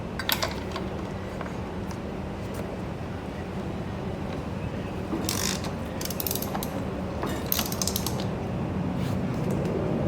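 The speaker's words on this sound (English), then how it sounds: "Alright, got all the bolts on there. Just gonna tighten them up." Bolts are tightened on a Lone Star Grillz Large IVS smoker, giving repeated ratcheting clicks and metallic creaks at close range, fairly quiet and intermittent over a low steady background hum.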